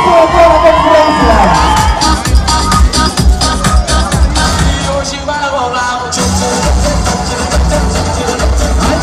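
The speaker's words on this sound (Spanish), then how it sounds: "Reciban un abrazo y un aplauso de toda la concurrencia." A dense carnival crowd in Mocorito cheers and shouts loudly with whoops and clapping mixed in, a sustained festive roar close to the microphone.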